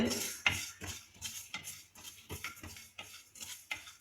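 Ingredients lightly roasting in a pan over a low flame, quiet dry scraping and clinking of a spoon against the pan in short repeated strokes, with only a faint sizzle.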